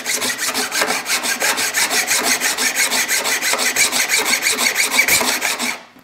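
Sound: filing a card scraper to sharpen it

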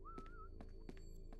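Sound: person whistling a tune

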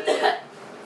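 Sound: cough

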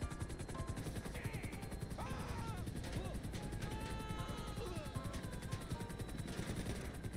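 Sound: helicopter under gunfire in GTA 5 video game

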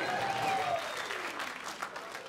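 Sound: stand-up comedy audience applause

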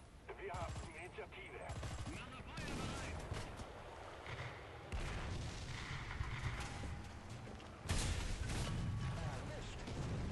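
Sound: tank cannon fire in the video game War Thunder

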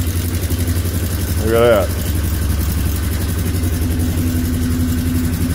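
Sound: Polaris Sportsman ATV engine running

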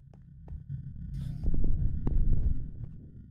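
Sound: creepy heartbeat sound effect in the video game The Rift

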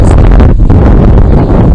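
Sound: wind blowing on the microphone by a pond

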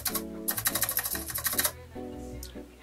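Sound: rattling stabilized key on 3D-printed mechanical keyboard

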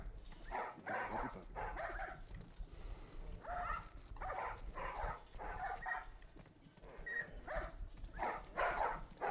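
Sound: dog barking in the video game The Last of Us Part 1

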